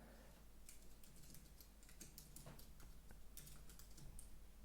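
Quiet, steady typing on a computer keyboard while entering an Excel formula, with irregular clusters of light key clicks running throughout the whole stretch.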